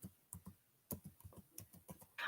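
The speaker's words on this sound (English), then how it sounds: "I'm typing in my" Fingers tap on a Chromebook keyboard in quick, uneven bursts of close, crisp clicks, with short pauses between keystrokes and no talking.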